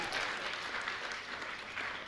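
An audience at a Jain religious gathering applauding to honour a guest, a continuous dense wash of clapping hands, fairly loud and steady throughout.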